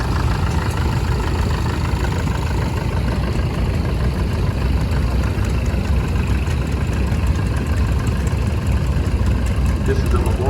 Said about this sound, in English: This is a memorial tractor coming around the corner here, owned by Holly Sokolovich from Sheboygan.